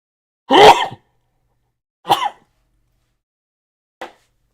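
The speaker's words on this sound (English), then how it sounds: "I need to sneeze." One person sneezes up close in a quiet room: a strong first burst, then two shorter, fainter bursts spaced about two seconds apart.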